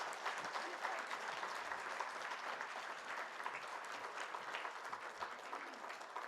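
A large audience at the FADA Awards 2019 presentation ceremony claps steadily in welcome for cricketer Kapil Dev, a dense, even wash of applause that holds at full strength throughout without a break.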